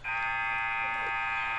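A basketball end-of-quarter buzzer blares as one steady, loud electronic tone held for over a second in a gym.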